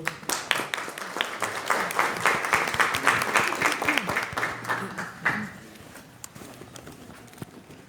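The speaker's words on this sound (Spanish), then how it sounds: "Demos un aplauso, por favor." Audience applause at a law lecture on consent in contracts, a dense burst of clapping that holds steady for about five seconds, then thins to a few scattered claps and quiet room noise.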